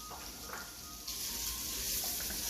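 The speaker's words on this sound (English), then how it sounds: "So I've rendered out some of the oil. So now I'm gonna go in with the sausage." Sausage hits hot rendered oil in a pan for red beans and rice, a faint crackle that swells into a steady, louder sizzle about halfway through.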